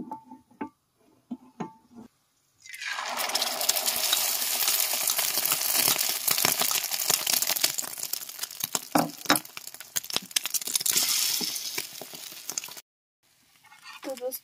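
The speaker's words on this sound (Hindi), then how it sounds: "तो गाइस चलो अंडे को करते हैं फ्राई।" An egg seasoned only with salt fries in a pan, a loud steady sizzle and crackle that starts abruptly after a few small clinks and runs about ten seconds before cutting off.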